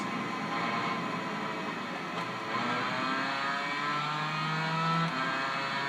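Continuous motorcycle engine drone from the PS2 racing game Tourist Trophy, with rising and falling revs, steady and fairly close, with no talking over it.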